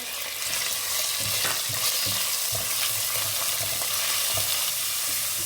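Boneless chicken frying in a pan for chicken fried rice, a steady close sizzle with repeated stirring scrapes, no voices.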